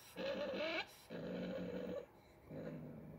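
A fox gives low, drawn-out grumbling growls at a cat in three bursts, close by, with brief pauses between them.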